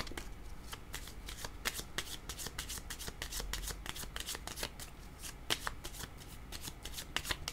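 Tarot cards being shuffled by hand in a steady run of crisp riffling clicks and soft slaps, close and quiet, with no voices.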